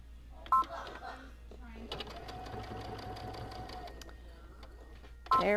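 A sewing machine stitches small fabric tabs onto a gadget stand project, running in a steady continuous whir for several seconds with brief pauses at start and end, close and moderately loud; a voice speaks briefly around it.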